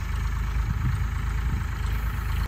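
A tractor engine idles nearby at night, a loud, steady low chugging drone that holds unchanged throughout.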